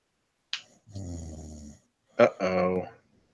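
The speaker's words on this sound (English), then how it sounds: "He's snoring." A person snores twice, each a slow, rasping breath separated by a short silence, close and fairly quiet.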